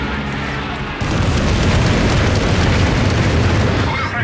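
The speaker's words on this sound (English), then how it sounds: "A lot of damage from the frag bombs." Frag bomb blasts in Company of Heroes 3 battle, a loud rumbling explosion bursting in after a lower hum and rolling on densely with crackling debris and distant gunfire.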